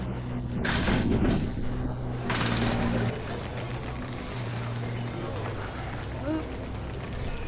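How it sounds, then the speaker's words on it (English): Road repair work in a city pedestrian street, a continuous rumble of machinery with intermittent harsher bursts in the background while a person speaks over it. "I'm sorry about the noise you can hear. It's people working, fixing the road."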